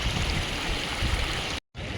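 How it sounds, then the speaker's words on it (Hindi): Glacier meltwater at Hampta Pass rushes downhill in a steady, broad roar with a close, constant wash and a brief cut near the end. "और ये ग्लेशियर का पानी"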